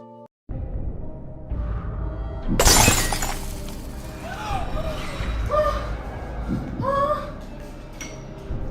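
Glass shatters inside a family home: one loud, sharp crash early on, its bright splintering debris fading over the next few seconds, with voices talking around it.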